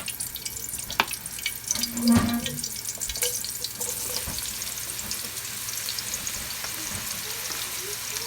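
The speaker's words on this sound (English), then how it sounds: "I'm gonna add the mushrooms, all the veggies right now so they can fry." Mushrooms and mixed vegetables fry in oil over medium heat for spicy fried spaghetti, giving a steady close sizzle with a few clinks and stirring knocks early on.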